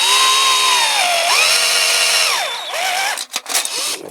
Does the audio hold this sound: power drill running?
yes